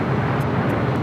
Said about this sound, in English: 747-400 freighter about to touch down on the south side